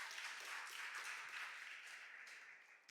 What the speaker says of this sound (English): Applause for our little volunteer.